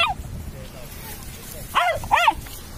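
A dog on a pebbly beach at Shoreham-by-Sea gives two quick, sharp barks close by, over faint background noise, with people talking nearby.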